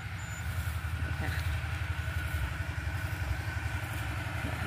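An engine-driven water pump runs behind a flooded orchard, a steady mid-pitched chugging engine with fast rhythmic pulses, moderately close, with a faint voice now and then.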